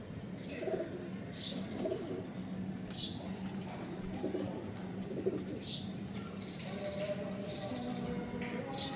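Breeder pigeons cooing, repeated soft throaty coos and murmurs from several birds nearby, with faint chirps and a light background hum.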